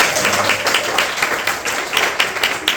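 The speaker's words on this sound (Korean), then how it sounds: "박수 크게 쳐주셔야죠." Audience applause fills a Korean church during a women's mission dedication worship service: a dense, steady burst of many hands clapping together, loud and close, with no talk over it.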